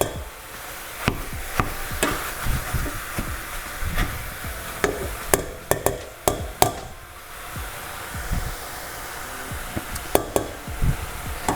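Ground turkey cooking in a saucepan for burritos, with a low steady simmering hiss broken by sharp clacks and scrapes of a utensil against the pan, scattered through the whole stretch with a short quieter lull midway.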